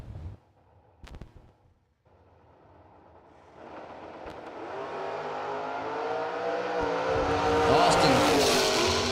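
A Chevrolet Chevelle drag race car launches down the strip at a $100K drag racing event, its engine building from a low rumble into a loud, rising roar that swells and holds near the end, with faint voices early on.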